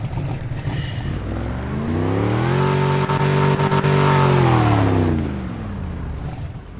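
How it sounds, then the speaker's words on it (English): Several cars in a small-tire street race in the Upstate Roleplay game rev and accelerate close by, engine pitch climbing then holding high before fading away, with a loud steady roar and no talking. "we can still hear the cars"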